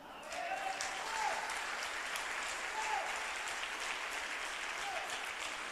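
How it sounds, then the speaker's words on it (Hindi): A church congregation claps steadily together, a dense, even wash of applause held throughout at a moderate distance, with a faint voice over it. "तो शांत क्यों बैठे, ताली बजाएं।"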